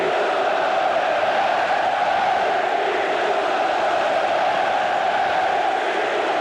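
A stadium crowd at an Inter vs. Vicenza football match, a steady, distant roar of many voices with a constant broad murmur and no distinct individual shouts.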